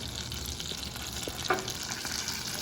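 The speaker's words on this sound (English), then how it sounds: "you can hear that butter" Steady crackling sizzle of butter in a hot, heavy Demir pan, with a few sharper pops and a brief clatter partway through.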